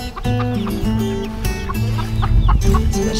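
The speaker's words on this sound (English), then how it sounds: "I gotta get the chicken off the eggs." Backyard hens cluck and murmur close by, a busy overlapping run of short clucks and throaty trills from several birds in a coop near the nesting boxes.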